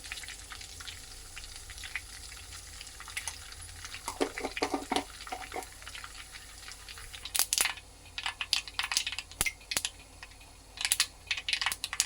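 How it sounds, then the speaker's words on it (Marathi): Mustard seeds splutter in hot oil in a wok, first as a low background sizzle, then as bursts of sharp popping and crackling that grow denser and louder toward the end, with no talk over it. "इथे कढईमध्ये तेल घालायचं आहे गरम झालं आहे त्याच्यामध्ये राई घालायची"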